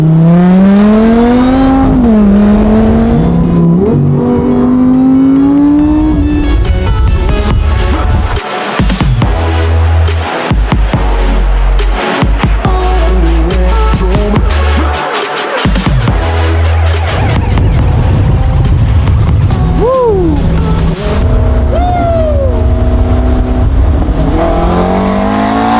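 A VF Engineering supercharged 5.2-liter Lamborghini V10 revs loud and close, its whine sweeping up and down through repeated throttle blips, with several sharp cuts between pulls.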